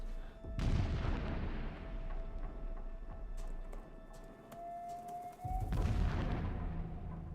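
Explosions in the video game Horizon Zero Dawn: a heavy boom opens, then a long low rumble with faint clatter runs under it, and a second loud blast lands near the end.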